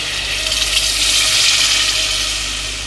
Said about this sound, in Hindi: इस पॉइंट पे हम डालेंगे अपना पानी।